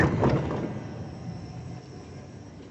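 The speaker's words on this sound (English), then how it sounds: "And there's our train." A train pulls in at a station in France's Champagne region, a broad rumbling roar loudest at the start then settling into a steady, fading hum with faint rail noise.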